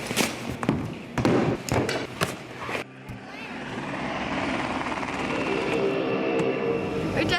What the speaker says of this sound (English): We're just about to go off and lift off on the plane.